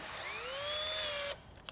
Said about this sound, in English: I'm gonna try a smaller drill gun